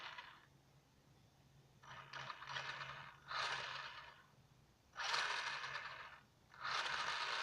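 An old junkyard radio-controlled car's electric motor and gears whir in four separate bursts as the throttle is blipped and released, with quiet pauses between them, close but not loud.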